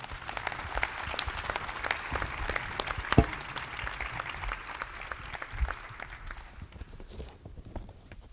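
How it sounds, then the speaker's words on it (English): Sustained applause from an audience at a community behavioral health summit as a panel session closes, dense steady clapping with no talk that thins out and fades near the end. "Please join me in giving a round of applause to our panel"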